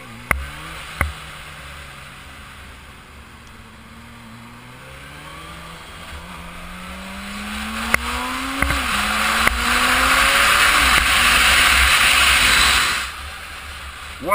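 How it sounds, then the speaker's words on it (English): A Suzuki GSR600 motorcycle engine revs up repeatedly through its exhaust, each pitch climbing then dropping. The run builds into a louder, sustained roar near the end before cutting off, with no talk over it. "The sound of this exhaust is lovely."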